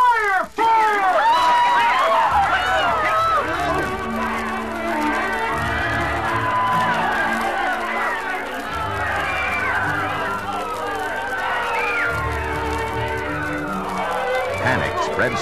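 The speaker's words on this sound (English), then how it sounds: "Panic spreads through the crowd like a plague as smoke begins to roll from the back of the auditorium" A theater crowd panics as fire breaks out and smoke rolls from the back of the auditorium in a 1970s Batman radio drama: loud, dense screaming and shouting with running commotion that continues throughout.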